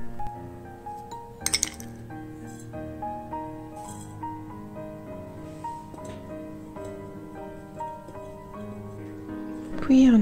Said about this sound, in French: On commence par mélanger les produits solides.